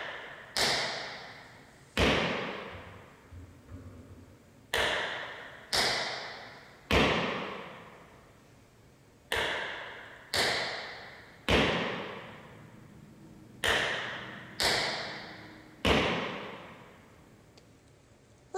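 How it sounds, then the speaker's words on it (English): Sharp taps and knocks on a hard floor in uneven clusters, each hit ringing briefly, with short pauses between groups of strikes. "Keep trying to use only the tip of your tap shoe to connect to the floor for your toe knocks."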